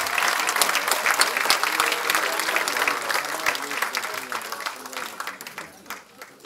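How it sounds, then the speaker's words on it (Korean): The audience in a hall at the Democratic Party's floor leader election applauds loudly, with dense clapping that slowly fades toward the end and voices audible beneath it. "이분들께는 큰 박수 한번 보내주세요."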